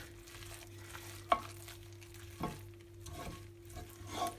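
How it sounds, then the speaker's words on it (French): Beaten eggs stirred into a salt cod mixture in a pan with the gas turned off, giving a soft sizzle and a few light scrapes and knocks of the utensil against the pan. "dès que j'incorpore les œufs, je coupe directement le gaz. Je mélange."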